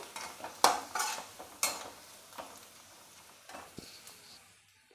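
Grated ginger and masala sizzle in a kadhai over a low flame, stirred with a spoon that scrapes and taps the metal in several close strokes, with no one talking.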